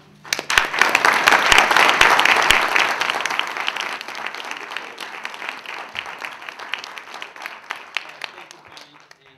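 Sustained audience applause greets a lecturer at an evening talk on coal and Appalachian activism, a dense wash of many hands clapping that swells quickly, holds strong, then gradually thins toward a scattering of claps.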